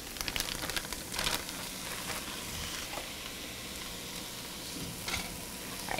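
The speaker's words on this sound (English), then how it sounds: "I'm going to go ahead and add in our ground beef at this point" Ground beef hitting a pan of nearly translucent onions, a close crackling sizzle with a few louder spitting bursts and scraping stirs, no voices.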